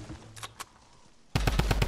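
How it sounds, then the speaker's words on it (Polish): Burst of rapid automatic gunfire in the video game Fortnite, loud and dense, following a quieter stretch with a few faint distant shots. "Ej, ktoś strzela naprawdę."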